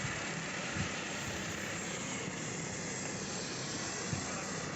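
A helicopter at a crowded rally for the Home Minister in Surada gives a steady, loud rotor and engine roar with broad hiss, continuous throughout and without talk.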